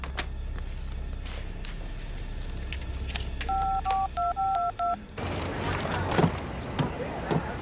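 Telephone keypad tones beep in a quick series of about eight presses, fairly clear over faint room noise, followed by rustling and movement sounds with no speech.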